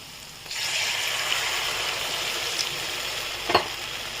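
Water is poured into a pan of hot fried spice masala for chicken kofta curry, bursting into a loud, steady sizzle that carries on close up, with a couple of brief clinks of a utensil and no speech.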